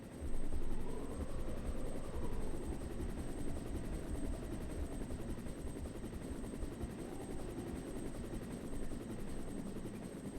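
Helicopter in the Resident Evil video game, a continuous rotor drone with steady low thumping and a high whine, loud and constant throughout with no talk.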